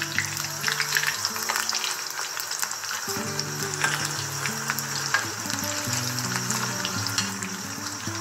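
Aloo chop, potato croquettes, sizzle and crackle in hot oil as a steady bubbling fry close by, with occasional sharper pops.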